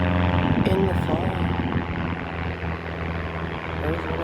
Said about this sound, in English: There's one of those planes